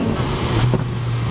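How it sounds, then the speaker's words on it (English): A BMW S1000XR motorcycle engine revs up close, with a loud, steady engine roar that swells briefly in pitch and then settles. "Now remember what this bike looks like and that sound coming out of it."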